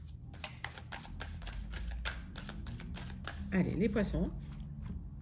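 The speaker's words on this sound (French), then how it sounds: "avec l'oracle des miroirs, hop, je mélange bien les cartes." Oracle cards being shuffled by hand, a rapid flurry of crisp close riffs and slaps, while someone speaks briefly over the shuffling toward the end.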